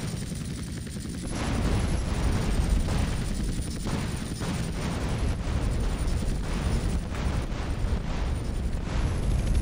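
A rocket launch and explosion in Grand Theft Auto: San Andreas: a heavy, continuous roaring rumble that swells and holds steady for several seconds, loud and dense, with no talk over it.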